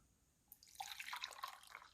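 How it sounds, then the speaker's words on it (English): Coffee poured from the carafe of a Mr. Coffee 12-cup programmable drip maker, a short steady trickle and splash that starts abruptly and runs on close and quiet, with no talk. "we're going to see how the coffee pot pours."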